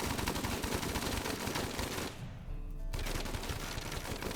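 Rimworld defensive turrets fire on raiders in a dense, continuous wall of rapid gunfire, briefly dropping out for about a second before the volley resumes at full strength.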